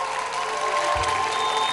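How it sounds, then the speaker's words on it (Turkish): Studio audience clapping steadily throughout a Turkish television variety show, a dense, even wash of applause with a faint low thump partway through. "Böyle az alkışlarsanız bizi biz konsantre olamayız."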